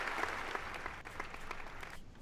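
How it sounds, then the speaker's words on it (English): Recorded applause played during a podcast, a quiet, steady wash of clapping that cuts off near the end. "I had to let that applause out."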